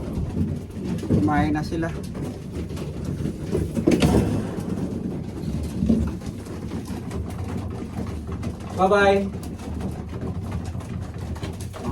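Pigeons coo a few times nearby, soft rolling calls rising above steady background noise while people talk at moments.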